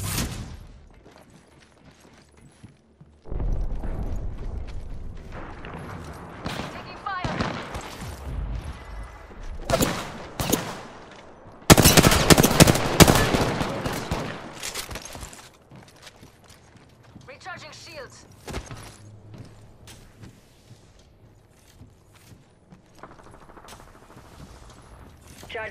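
Video game firefight with bursts of rapid gunfire and clattering impacts, loud in the middle stretch and quieter elsewhere, with a player's voice talking over parts of it.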